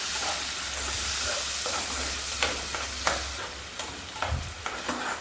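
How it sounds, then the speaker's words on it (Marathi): Onion paste frying in hot oil in a pan for a Sunday non-veg dish, a steady close sizzle with occasional spoon scrapes and clinks, no one talking. "आता ही फक्त कांद्याची पेस्ट टाकून घेते कांदा मी भाजून घेतला होता तरी पण तेलामध्ये चांगला परतून घेते"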